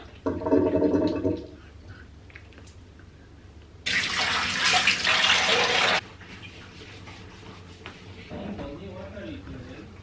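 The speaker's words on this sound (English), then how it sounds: "I'm just gonna wash my face okay while rubbing my marks I always do like a circular motion" Face being washed under running water in an evening skincare routine: a steady rush of tap water for a couple of seconds with splashing, preceded and followed by quieter handling sounds and a voice speaking.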